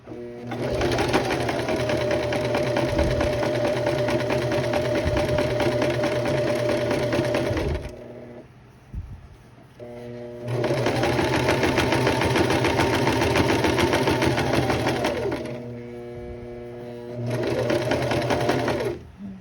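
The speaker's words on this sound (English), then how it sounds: "I'm just gonna stitch right along as close to the edge as I can" Sewing machine stitching along the edge of a dress, whirring in three long runs with brief pauses between them, its close, steady motor hum broken by short quiet gaps.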